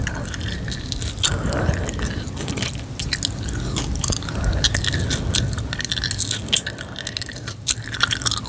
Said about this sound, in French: Vraiment que la ASMR pour tolérer de mâcher la bouche ouverte et faire autant de bruit de bouche.